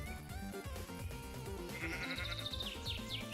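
Sheep bleating in Minecraft Java Edition, a few short wavering bleats in the second half over busy background game music.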